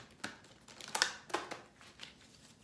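A deck of oracle cards being shuffled by hand: a few quiet, crisp crinkling riffles and flicks close by, spaced irregularly, with no talking.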